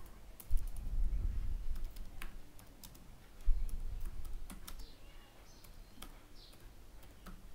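Keys clatter on a computer keyboard during Excel data entry, sparse irregular clicks in short bursts over a low background rumble, close by and fairly quiet, no one speaking.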